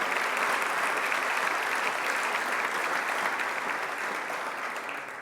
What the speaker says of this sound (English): can we give the staff here a big round of applause for doing a terrific job?